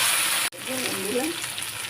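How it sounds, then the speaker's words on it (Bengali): Taro pieces hitting hot oil with dried chili, giving a sharp clatter followed by a steady, close sizzle and frying hiss that continues on its own. "ওই তেলের মধ্যে আমি শুকনো লঙ্কা, তারপরে কচুগুলো দিই"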